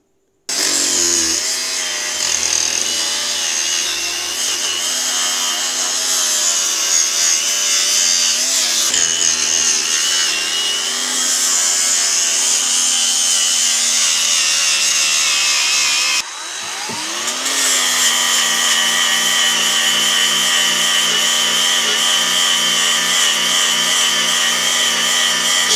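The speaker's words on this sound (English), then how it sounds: "So now we'll take the flapper disc, clean this up a little bit, and throw some weld to it." A flapper disc on an angle grinder cleans up a metal front axle with a loud, sustained whirring grind that runs for about twenty-five seconds with one brief dip in pitch midway.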